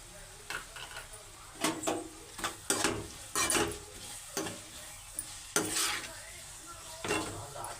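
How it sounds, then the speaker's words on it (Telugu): Onions fry in a pan, with a low background sizzle punctuated by a series of loud, uneven spatula scrapes and clanks against the pan, close and clear, with no talking. "ఉల్లిపాయలు మగ్గే వరకు ఉల్లిపాయలు ఫ్రై అయిపోయి"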